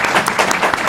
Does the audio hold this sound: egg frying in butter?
no